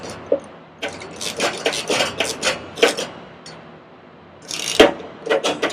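Socket wrench ratcheting while installing a new linkage, quick raspy clicking bursts in irregular runs, close and fairly loud with short pauses between strokes.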